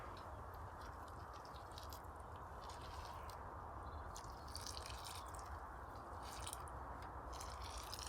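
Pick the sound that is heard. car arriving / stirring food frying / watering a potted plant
watering a potted plant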